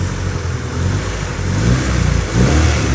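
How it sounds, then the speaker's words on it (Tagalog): A car engine revving with a ticking from a faulty high tension wire where the spark jumps, a steady mid-pitched engine drone rising in two short surges with faint rapid ticking underneath, close by. "Pag nire-rev, may maririnig kayo na parang lumalagitik."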